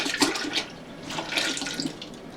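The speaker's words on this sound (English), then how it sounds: "Now we're going to dump in 2 quarts of milk." Two quarts of milk poured into a soup pot for loaded potato soup, a steady soft liquid splashing and gurgling that swells in a few bursts and runs on without talk.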